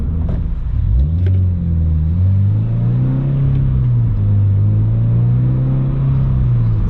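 A 2022 Subaru BRZ's exhaust, fitted with an aftermarket catback, drones low and steady inside the cabin with windows up, rising slightly in pitch as the engine pulls, with a constant rumble and no speech.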